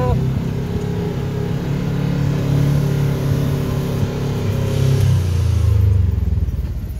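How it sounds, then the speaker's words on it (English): A KRX 1000 off-road vehicle engine drones at a low, steady pitch while engine braking down a steep rock-crawling slope, holding a constant rumble that shifts slightly near the end. "Downhill engine braking again is phenomenal."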